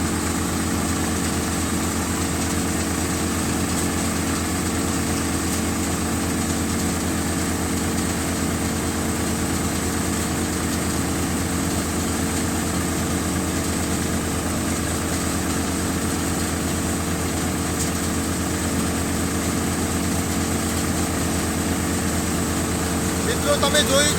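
A steady, continuous engine drone runs throughout, a heavy tractor motor driving threshers under load, holding a constant, fairly loud hum with little variation.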